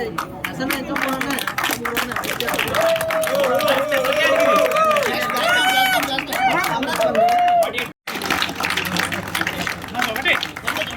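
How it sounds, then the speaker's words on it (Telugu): An outdoor crowd at a mandal-level rangoli (muggulu) competition in Paravada claps in a dense patter, mixed with chatter and voices, then breaks off briefly before the noisy crowd sound returns. "claps claps"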